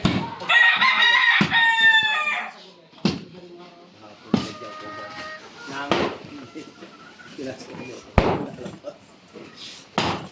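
Chickens squawk and cluck in a noisy commotion while a rooster crows, with sharp bangs like a door slamming and a voice speaking between bursts.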